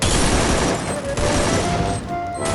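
Grenade blasts and gunfire ring out in a video game match, a dense, loud barrage of booms and rapid shots with no gaps, close and harsh throughout.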